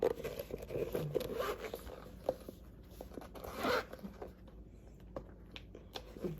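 The zipper on a JW Pei handbag is pulled in several short, quiet rasping strokes, with small rustles of the bag being handled in between.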